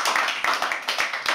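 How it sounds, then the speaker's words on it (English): Audience at a poetry open mic at The Habitat applauding, a dense, steady patter of many hands clapping close by, with sharp individual claps standing out in a fast, irregular rhythm. "Keep clapping."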